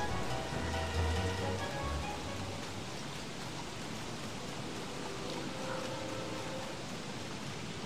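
Rain falls in the video game Don't Starve as a continuous soft, even hiss of pattering drops, with a low rumble in the first couple of seconds.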